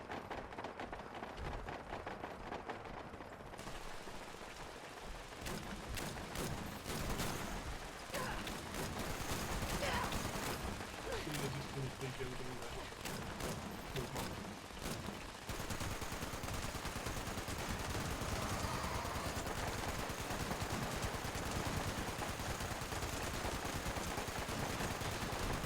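Cryo turrets fire in the video game Fallout 76 as dense, rapid bursts of gunfire from game audio. The shots run fairly quietly in clustered volleys with a voice talking at times.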